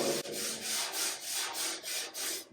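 Sandpaper of 150 grit worked by hand over the metal body of a 1951 Vendo 39 Coke machine, giving about eight steady, even back-and-forth rasping strokes, close and alone.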